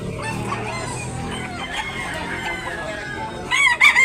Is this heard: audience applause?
no